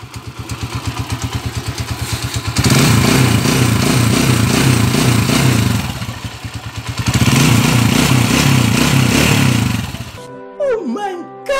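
Honda TMX 155 motorcycle running on full synthetic oil idles with a steady low putter, then revs up in two sustained surges before dropping back, with a brief voice at the end.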